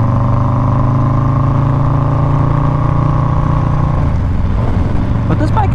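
A Harley-Davidson motorcycle with about 150 wheel horsepower runs in first gear, its engine giving a steady, loud, close rumble that rises and then eases near the end as the rider talks over it.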